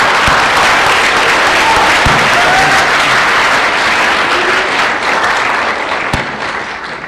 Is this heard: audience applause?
yes